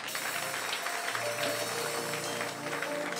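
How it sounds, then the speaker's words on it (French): A church congregation applauds and cheers during a worship service, a dense continuous wash of clapping with some voices mixed in, loud and sustained throughout. "On acclame encore le Seigneur."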